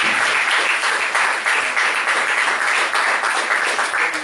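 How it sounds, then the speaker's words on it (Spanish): Steady, dense applause from a class or lecture audience welcoming a student during a roll call, close and continuous for about four seconds with no talking over it. "Otro aplauso"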